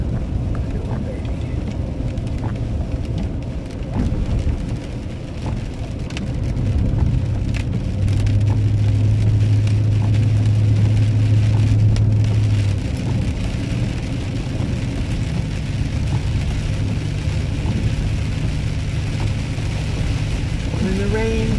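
Rain falls steadily outdoors in a continuous, even patter with a low hum and passing engine-like drone underneath, fairly loud throughout, while a voice murmurs faintly.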